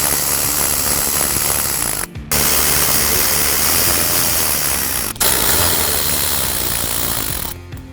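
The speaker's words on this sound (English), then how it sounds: "we can use a size 7 socket to remove each of those bolts" A ratchet socket wrench clicks rapidly and continuously while backing out bolts from the plastic wheel well liner on a Ford F150, close up, pausing briefly twice between bolts.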